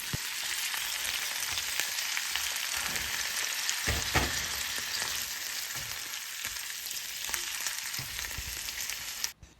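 Shrimp sauté in a pan with a dense, loud, unbroken sizzle, while occasional scrapes and knocks from stirring break through before everything cuts off abruptly at the end, with no one talking.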